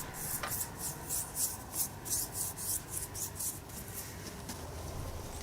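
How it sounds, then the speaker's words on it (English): Rust converter is brushed onto a Kubota B2100 compact tractor part in quiet, rhythmic scratchy strokes, repeating about twice per second. "what I'm doing here is applying the rust converter"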